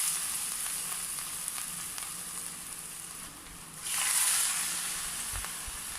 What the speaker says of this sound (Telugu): దీనికి మధ్యలో హోల్ పెట్టి ఇలా చక్కగా నూనెలో వేసుకోవాలి.